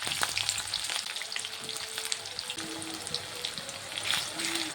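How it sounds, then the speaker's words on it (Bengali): Chopped onion goes into hot oil with cinnamon, cloves and cardamom in a wok, giving a steady close crackling sizzle with a few clinks and stirring scrapes, no voices. "তেলটি গরম হয়ে গেছে, দিয়ে দেবো দারচিনি, লবঙ্গ, এলাচ, দিয়ে দেবো পেঁয়াজ কুচি।"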